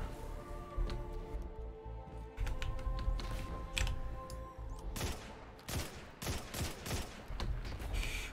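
A rifle firing in the shooter Destiny 2, sharp shots cracking out in irregular bursts over a busy, steady layer of game ambience and music, with rapid clustered reports toward the end.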